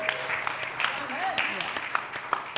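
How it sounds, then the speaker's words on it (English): Moderate audience applause at an AI in Marketing panel, a continuous patter of clapping from a modest room crowd, fairly quiet, with a few sharper claps standing out and some faint voices underneath. "so please give him a round of applause for him"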